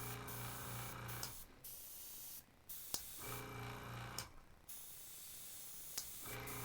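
An airbrush fed by an automatic compressor sprays in bursts, a bright close hiss that cuts off and restarts several times with short quiet gaps and occasional small clicks.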